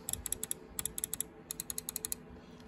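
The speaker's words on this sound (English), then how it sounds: "I'm going to do a click test real quick." Sharp little computer mouse button clicks from a SteelSeries mouse come in quick bursts of two to four, close and crisp, with short pauses between groups and no voices.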